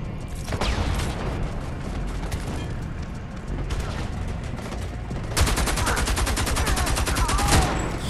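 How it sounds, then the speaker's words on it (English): A weapon firing in the game Homefront: The Revolution, rapid continuous bursts that grow into a dense, loud automatic stream near the end. "gun right here. Is absolutely ridiculous"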